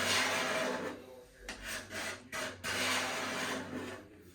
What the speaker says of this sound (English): Whenever you scrape it, it peels it off.